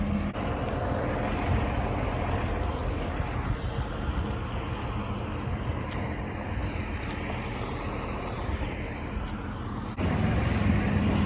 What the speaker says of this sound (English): Listen to these trucks. They aren't even moving.